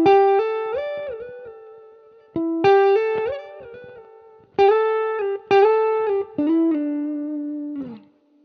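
Electric guitar with a clean tone picks a slow single-note melody in several separate phrases split by short pauses, the notes ringing clearly and sliding between pitches, played alone and close.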